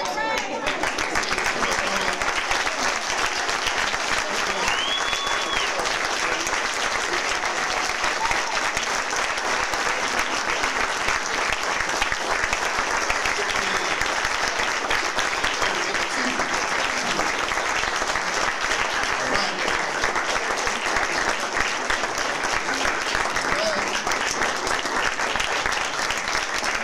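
Steady, dense applause from an audience fills the hall continuously, many hands clapping at an even level without pause, welcoming Dr. Frances Cress Welsing to a lecture on Black love.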